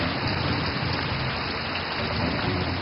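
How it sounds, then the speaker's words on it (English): Heavy driving rain pours down in a steady, dense hiss that stays loud and unbroken throughout, with a low rumble beneath it suggesting distant thunder from a big storm. "The driving rains,"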